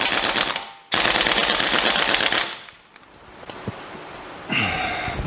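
A 3/4 inch impact wrench hammers on stubborn bolts of an Audi R8 V8, with loud, close, continuous rattling bursts, a brief gap, another long burst, then quieter clanks.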